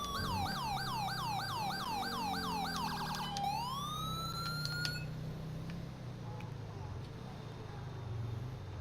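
In the LSPDFR police game mod, an ambulance siren runs code 3 with a rapid rising-and-falling yelp that switches to a long wail and then cuts out, leaving a low engine and road rumble underneath.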